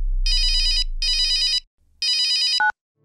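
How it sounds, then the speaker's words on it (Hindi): A telephone rings in a home scene from a Hindi comedy series, giving three bursts of an electronic warbling ring with short gaps. A brief higher tone ends the last burst before silence. "आयो फोन।"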